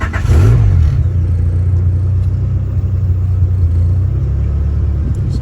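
A turbocharged Honda F20b engine starts up loud and close, settling straight into a steady, deep rumbling idle with no talk.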